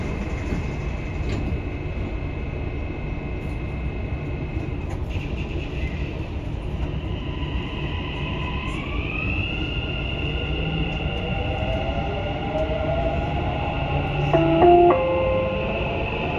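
Dubai Metro train pulling away from a station after its doors close, heard from inside as a steady rolling rumble with a rising whine of traction motors, and a brief clunk near the end.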